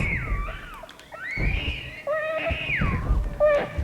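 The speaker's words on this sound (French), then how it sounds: "maintenant bébé s'agite dans le frigo" A baby inside a refrigerator stirs and wails in the Silent Hills P.T. horror game, giving rising and falling eerie cries in several drawn-out bursts, fairly loud and unaccompanied by talk.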